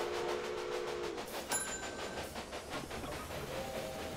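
A train running in the railway management game Railway Empire, a steady rumbling hiss of rolling wagons with faint rhythmic clatter, continuous and moderately loud with no talk.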